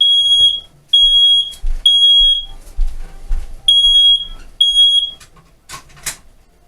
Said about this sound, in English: apparently our smoke detector is still working